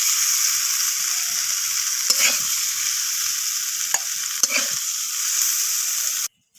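Young jackfruit pieces fry in a kadai with a steady, bright sizzle of hot oil, broken by a few scraping stirs and lifts of the pieces before the sound cuts off abruptly. No one speaks.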